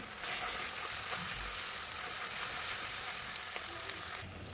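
Onion, ginger and garlic sizzle in hot oil in a pan, a soft, continuous crackling hiss with faint stirring, quiet and close with no talking.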